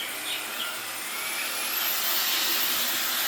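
A K30 Pro cordless stick vacuum cleaner running continuously, a loud steady high-pitched whine and airflow hiss heard close up, slightly intensifying, with no talking.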